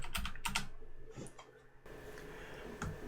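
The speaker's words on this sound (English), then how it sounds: "all I do is I type in blend" Quick clattering keystrokes on a computer keyboard come in a few brief bursts, close and fairly crisp, followed by quieter scattered clicks against a low background hum, with no voices.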